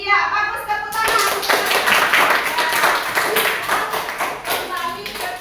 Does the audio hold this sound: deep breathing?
no